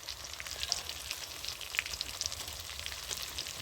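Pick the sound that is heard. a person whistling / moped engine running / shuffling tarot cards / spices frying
spices frying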